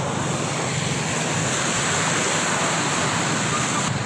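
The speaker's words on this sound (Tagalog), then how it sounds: "Lubog ng baha mga kababayan." Flood water rushes through homes in Baguio, a loud, continuous broadband roar of churning water with no breaks.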